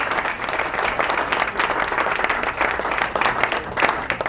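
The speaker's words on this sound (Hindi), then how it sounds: "आइए तालियां हो जी।" Audience applause for the winner of an Islamic questions-and-answers quiz competition during a Ramadan program: dense, steady clapping from a crowd, loud and continuous throughout.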